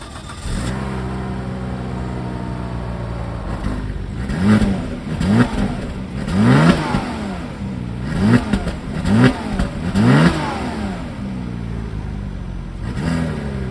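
A Volvo car's engine pulls through repeated rises in revs as it accelerates on a drive, each surge climbing and dropping with gear changes, loud and close with a steady road hum beneath.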